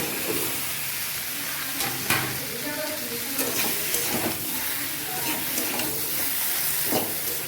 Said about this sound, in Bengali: ভেন্ডিটা দিয়ে দিচ্ছি এটার মধ্যে আমি।